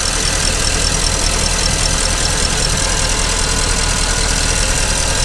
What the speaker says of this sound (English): The engine is working nice.